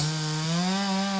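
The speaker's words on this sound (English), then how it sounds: "Sounds like our chain's getting pretty dull on the chainsaw." A chainsaw with a dull chain cuts into a big oak tree, a close, loud steady engine whine with a strong buzzing tone held through a brief burst.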